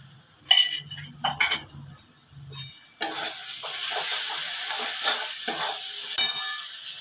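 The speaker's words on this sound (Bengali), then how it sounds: "এই মশলাটা ভাজা হয়ে গেলে আমি তারপরে মাংসটা দেব" Spice paste with cumin powder, onion and garlic fries in a pan for a mutton curry: a few metallic clinks of a spoon and pan, then a sharp sizzle that settles into steady close frying with occasional stirring scrapes.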